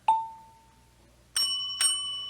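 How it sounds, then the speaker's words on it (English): Counter call bell in a 1940s department store, struck by a customer: one clear ding that rings out and fades, then two quicker rings close together, bright and near. "when she hears the call bell, she knows a customer is asking for help"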